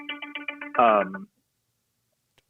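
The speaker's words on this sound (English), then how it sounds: "It's my cell phone." A cell phone ringtone goes off as a short run of quick, evenly spaced electronic beeps, then a brief louder burst, followed by silence.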